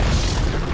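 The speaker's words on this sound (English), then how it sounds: "Dire's top tower has fallen." Dire's top tower collapsing in the video game Dota 2, a brief, loud, deep rumbling boom that holds steady for under a second.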